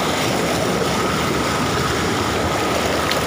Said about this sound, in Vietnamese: Suối này, suối cực kỳ mát luôn.